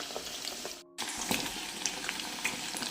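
Chicken pakodas deep-frying in hot oil give a steady, crackling sizzle with scattered pops, briefly cut to silence near the start before the frying noise resumes at an even level.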